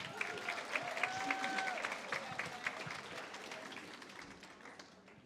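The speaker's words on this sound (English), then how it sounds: "Ladies and gentlemen, big round of applause for Judith Hannan." An audience at a high tea claps for a speaker in sustained applause that gradually fades, with a faint voice and a sustained whistle-like tone briefly heard over it.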